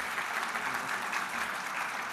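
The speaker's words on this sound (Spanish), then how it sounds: "Un aplauso para Oscar." Steady, even applause from a plenary audience at an open event, a continuous wash of many hands clapping at constant loudness throughout.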